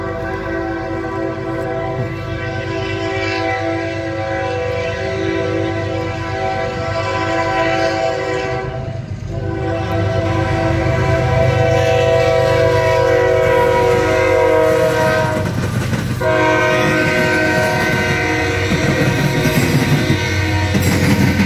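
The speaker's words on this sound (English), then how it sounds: "I hear a train coming." A train passes through Oakland City, Indiana, its loud sustained horn blaring over the rumble of the cars, swelling as it draws nearer over about twenty seconds.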